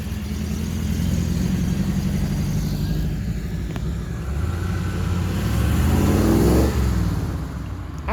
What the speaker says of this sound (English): Raspy little exhaust we have here.